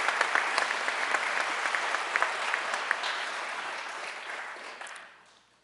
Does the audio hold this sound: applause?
yes